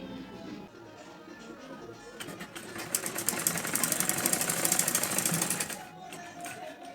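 A sewing machine stitches lace onto the neckline of a Madhubala-style blouse, with one sustained, rhythmic run in the middle of the clip and quieter handling before and after it.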